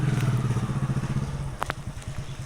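A motorcycle rides past on a road, its engine putting out a close rhythmic pulsing chug that fades slightly as it moves on, with a few light clatters.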